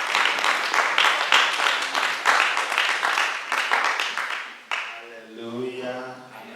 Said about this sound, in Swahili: makofi kwa Bishop